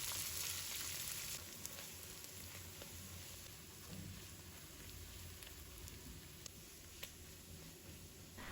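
Pork belly, shiitake mushrooms, squid and dried shrimp stir-fry in a hot wok with a loud, continuous, crackling sizzle, plus occasional faint scrapes of stirring.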